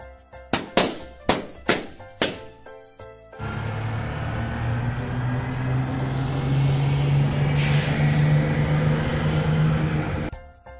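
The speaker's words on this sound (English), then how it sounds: "Bus." A large vehicle's engine drones steadily with a low rumble, and a brief hiss of air brakes cuts in partway, following several sharp knocks at the start.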